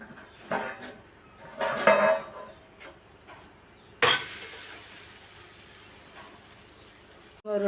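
Ragi roti roasting on a pan over a low flame, a faint, steady sizzle broken by a couple of clanks of metal against the pan, one sharp knock midway and another at the end.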